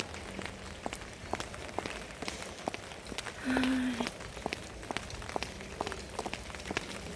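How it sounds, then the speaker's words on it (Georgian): Raindrops tap directly on a phone in a scattered, irregular patter of faint clicks, quiet and close, with a short tone midway. "წვიმს ხალხო, მაგრამ რა ვქნა, თან ტელეფონზე აწვიმს ეხა."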